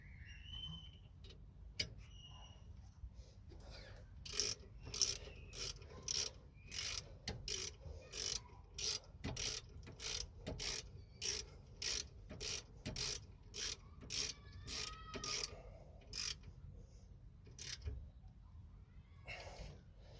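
A ratchet tightens brake caliper bolts on a Ford Fiesta Mk6, giving a long run of quick, rhythmic clicking bursts, close and crisp over a quiet background.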